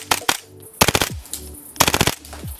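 Marui MP7 airsoft gun fitted with a T238 Griffon tracer firing several short full-auto bursts, each a rapid rattle of shots, loud and close with brief pauses between bursts.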